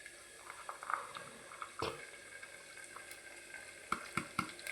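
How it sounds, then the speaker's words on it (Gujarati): Hyacinth beans (valor) with garlic and chilies frying in a pan, giving a faint, steady sizzle broken by a few light clinks of stirring. "હવે આપણે વાલોર નાખી દો."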